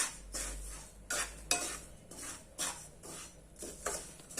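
Peanuts dry-roasting in a pan over medium heat, stirred with a spatula in repeated scraping, rattling sweeps about every half second, close and steady against a faint background hiss.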